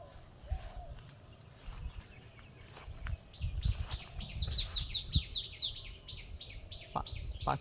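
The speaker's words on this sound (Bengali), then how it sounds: "পাখির কলকাকলি শোনা যাচ্ছে, ঝিঁঝি পোকার ডাক শোনা যাচ্ছে।" Birds chirp and crickets call on a rural village morning in Gazipur, Bangladesh: a thin, steady insect drone runs throughout while quick bursts of bird twittering rise in the middle, all faint and distant, with some soft background noise.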